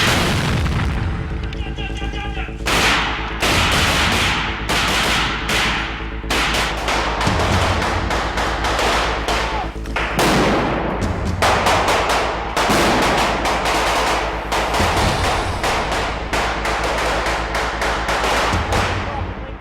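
Live-ammunition gunfire during an FBI Hostage Rescue Team exercise, a dense barrage of loud close shots and rapid bursts that continues almost without a break.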